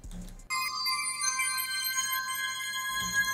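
Reversed bell chimes rise as a bright, sustained melodic layer inside a hip-hop beat, entering after a short low intro and ringing steadily throughout.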